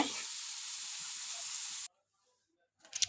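Fish and onions fry in a pan with a loud, steady sizzle that runs alone and then cuts off abruptly, followed by silence and a few brief clinks near the end.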